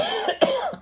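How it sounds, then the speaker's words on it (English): A single short, close cough with a throat-clearing quality, loud and alone, at the start of a winter carol singing session. "before you sing, make sure you don't have to cough"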